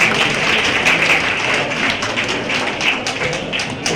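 Steady applause from a crowd at a gathering, dense continuous clapping filling the whole stretch at an even, fairly loud level with no speech over it.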